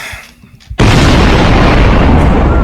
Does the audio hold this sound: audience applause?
no